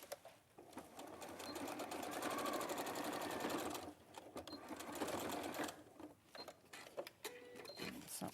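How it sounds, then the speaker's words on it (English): Sewing machine stitching across fabric seams on a purse or tote, a steady mechanical whirr with fast needle ticks running in long stretches, pausing briefly between runs, fairly close. "And then we're just going to stitch"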